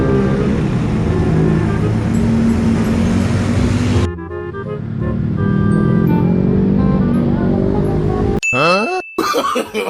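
A Tayo bus passes along a busy road amid heavy traffic rumble, with a cut to another passage of engine noise and ringing tonal sounds, ending in brief choppy, warbling bursts.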